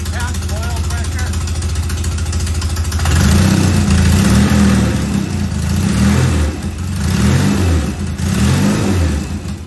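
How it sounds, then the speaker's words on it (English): A Norton bobber motorcycle engine starts up partway through, then idles with a rough, loud thrum and rises in several throttle blips and revs, close by, with someone talking over it. "All right, we just started it up, set the timing."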